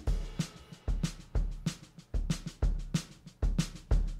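A stock Logic Pro Drummer pattern plays a steady drum beat, with deep kick hits and bright snare and cymbal strikes repeating at an even mid-tempo pulse, loud and close with no voices.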